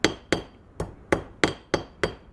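A hammer strikes a metal piece laid on a small anvil, seven sharp ringing blows at an even, steady rhythm, close and alone.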